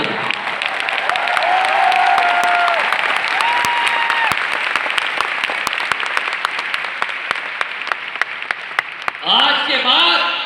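Convention audience in a large hall bursts into loud, sustained clapping with sharp individual claps standing out, while an amplified voice talks over it and a brief louder vocal swell comes near the end.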